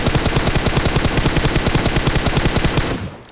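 Rapid automatic gunfire from PUBG Mobile, a dense, loud, steady burst of close shots sounding alone for about three seconds before it trails off.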